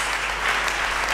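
A church congregation at a French-language sermon breaks into loud, dense applause that holds steady and continuous throughout.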